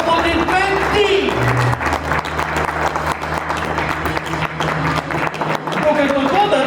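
A church congregation applauds steadily throughout, a dense mass of clapping with voices and cheering mixed in.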